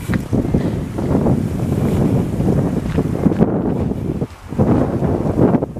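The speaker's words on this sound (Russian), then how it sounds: "Ветер прям холодный" Strong cold wind in Spain buffets the microphone in heavy, gusty roars, dipping briefly before surging again, with no voices.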